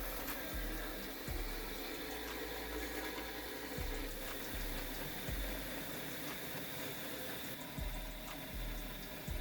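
A tiny motor turning 3D printed gears hauls a 7.5 kilogram weight, grinding slowly with a constant whir and periodic low thumps from the gear train, faint and nearby, without voices.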